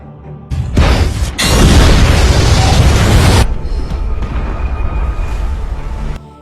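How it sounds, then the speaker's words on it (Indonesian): A boat explodes in a film action scene: a loud boom bursts out, followed by a sustained roaring rumble that fades into a lingering crackling aftermath as the boat burns. "perahu itu meledak berkeping-keping dan terbakar"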